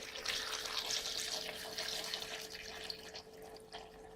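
Water poured into a pot for fish paprikash, a steady splashing, gurgling stream that runs close and fairly loud for the whole moment, tapering slightly near the end, with no voices.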